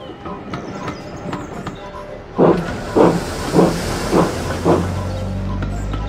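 A steam engine in the Thomas & Friends video game gives a series of five short, evenly spaced puffs of chuffing steam over a constant background hiss.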